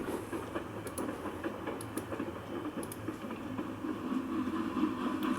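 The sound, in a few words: train station ambience sound effect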